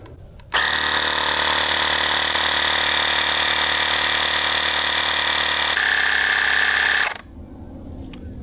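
A Teslong 20V Pro cordless tire inflator pumps air into a tire, starting abruptly and buzzing loudly at a steady pace for about six seconds, shifting slightly in tone near the end before shutting off on its own.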